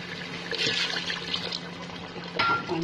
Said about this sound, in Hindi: इसमें डालूंगी हमने पानी